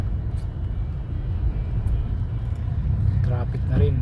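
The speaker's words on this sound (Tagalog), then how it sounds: "Traffic na rin. Ang dami na rin sasakyan." Rush hour road traffic in Metro Cebu on a rainy day, a continuous low engine rumble from many vehicles, with people talking over it throughout.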